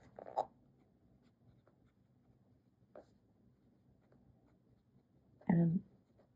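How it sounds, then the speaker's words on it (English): A fine-nib fountain pen writing in Classic Sport Green ink, faint soft scratches on paper with a few quiet taps and a louder bump near the end. "this ink, it is a really beautiful ink, and it just comes out of this pen so nicely"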